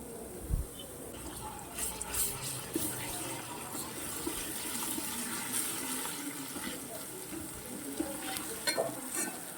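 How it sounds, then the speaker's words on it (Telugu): Ginger garlic paste frying in oil in a pan for a broccoli curry, a soft continuous sizzle broken by scraping stirs and small clinks, fairly quiet with no talking. "అల్లం వెల్లుల్లి పేస్ట్ కూడా నూనెలో బాగా ఫ్రై అయిన తర్వాత"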